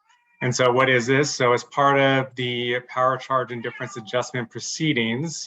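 A pet cat meows during an online board meeting, its cries mixed into a continuous stretch of a man's speech that dominates throughout.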